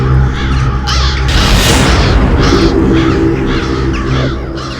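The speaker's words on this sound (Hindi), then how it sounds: "इतने सारे कौवे इस वक्त?" A large flock of crows caws loudly and continuously, the harsh overlapping calls rising in repeated bursts over a dense, rumbling noise.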